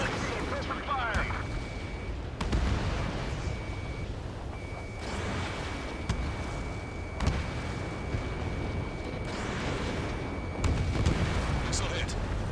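Support team opening fire in Ace Combat 7, a dense rumble of distant artillery-like blasts and explosions over constant jet and battle noise, with a steady tone running through and sharp bursts at intervals.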